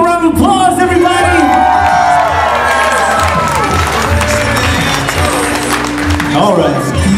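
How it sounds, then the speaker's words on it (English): Wedding guests clap and cheer as a loud, continuous crowd wash with scattered shouts and whoops, steady throughout with music tones running underneath. "give a round of applause, everybody."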